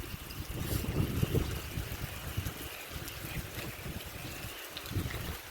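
Heavy rain with gusting wind on the Lao side of the river in the early morning, a steady dense wash of noise with low rumbling buffets, continuous and fairly close, no voices.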